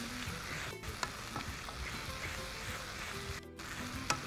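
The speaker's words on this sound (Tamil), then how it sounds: "இப்போ இந்த வெங்காயம், தக்காளி பழம் நல்லா மிக்ஸ் ஆகிடணும்." Chopped onion and tomato frying and being stirred in a pan, a close, steady sizzle broken by occasional scrapes and clinks of the utensil.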